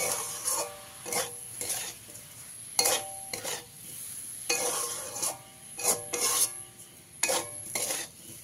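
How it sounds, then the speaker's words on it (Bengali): Semolina (suji) being stirred in a pan with a spoon as water is added a little at a time, giving repeated scraping strokes and faint sizzle, close and moderately loud with no talk. "অল্প অল্প জল দেবো আর মেশাতে থাকবো।"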